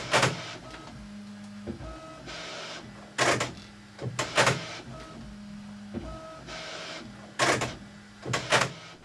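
A Bambu Lab H2D 3D printer with an AMS fault bangs loudly and repeatedly during boot-up, sharp knocking bursts recurring in cycles between motor whirs and short electronic tones.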